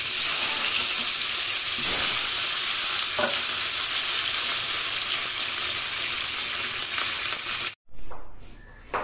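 Pieces of mrigal fish fry in hot oil in a pan, with a steady loud sizzle and hiss that runs continuously, broken only by a brief stir or clatter near the end.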